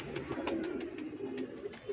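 A pigeon coos softly nearby in a short run of low, throaty murmurs, with faint higher chirps and clicks over quiet background.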